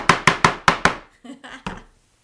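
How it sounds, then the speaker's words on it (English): A knife chops fresh basil leaves on a cutting board: five evenly spaced, loud thunks come first, then a few softer, quicker cuts, close up and alone. "I just took and chopped these all up like so"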